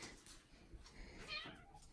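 A pet cat named Dilly meows faintly indoors near a door, a single soft drawn-out call standing mostly alone.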